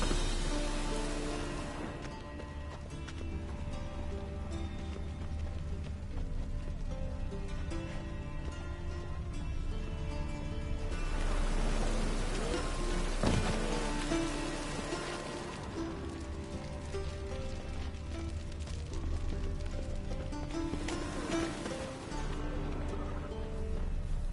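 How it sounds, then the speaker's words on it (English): Steady rain in The Witcher 3 patters and hisses throughout, swelling in a couple of heavier stretches over a low background hum, with faint chirps now and then. "Rain again."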